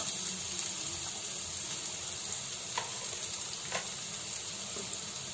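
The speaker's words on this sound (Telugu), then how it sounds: "ఇప్పుడు దీంట్లో నేను ముందుగా ఆనియన్స్ వేస్తున్నాను" Onions frying in a pan as the base for veg spring rolls, a soft, steady sizzle heard close and alone with a couple of faint clicks of a utensil.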